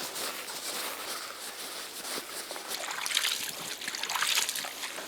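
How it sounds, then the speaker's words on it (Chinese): Strips of cut pig skin being washed by hand in a basin of water, with steady sloshing and trickling that swells louder toward the end, and no talking. "切好的猪皮继续往干净洗一下"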